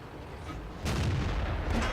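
A tank cannon firing in the World of Tanks game, one loud booming shot over a steady engine rumble, followed by a sustained roar.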